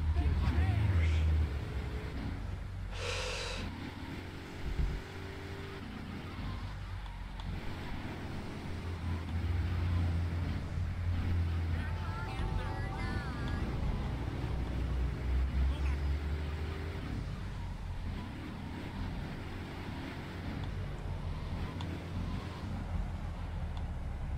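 A car engine in GTA III keeps running with a low, steady rumble beneath game sounds and someone talking, the engine fading slightly in and out.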